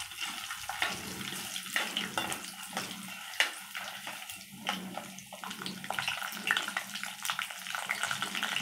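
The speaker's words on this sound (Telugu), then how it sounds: "మినపప్పు, ఆవాలు వేసుకొని ఫ్రై చేసుకున్నాం." Urad dal and mustard seeds frying in hot oil, a close, steady sizzle and crackle with scattered pops throughout.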